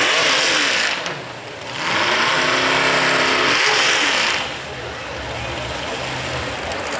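A modified mini snowmobile with a big alcohol-burning motor revs loudly, its harsh buzzing roar rising and falling with throttle and pitch sweeps on a racing track, at close range with no talk.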